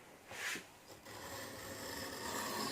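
A chisel is worked against a sharpener to remove the burr, giving a soft, close rasping scrape in a quick stroke or two, then faint continuous rubbing.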